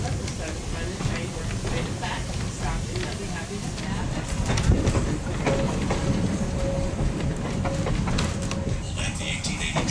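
The 1880 Train of the Black Hills railway runs between Hill City and Keystone, South Dakota, with a mix of locomotives hauling passenger and freight cars. It gives a steady rolling rumble and clatter that continues throughout, with faint voices in the background.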